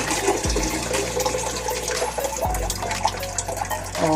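Water splashes and pours steadily while food for dinner gets its second wash, a continuous close-up rushing and sloshing with a few heavier thumps of liquid.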